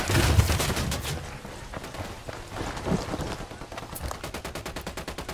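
Gunfire crackles in a Ghost Recon Wildlands firefight, dense rolling bursts giving way to a steady, rapid automatic rhythm near the end.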